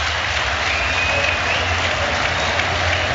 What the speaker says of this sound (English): listen to this cheer for Phil Foden.